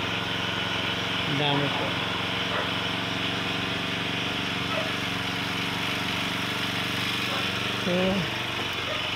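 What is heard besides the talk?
grass cutter engine running while cutting grass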